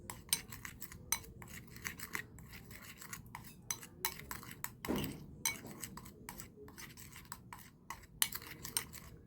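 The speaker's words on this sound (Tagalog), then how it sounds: "Ayan, haluin po maigi" Spoon stirring a coffee and calamansi mixture in a glass, a quick steady run of small clinks and scrapes, close and soft, with no talk.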